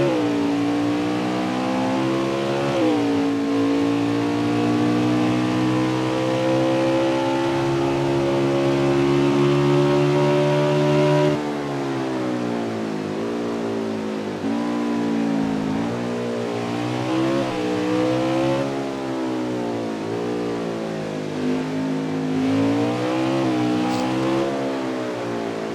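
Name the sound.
Xfinity race car engine, onboard lap at Mid-Ohio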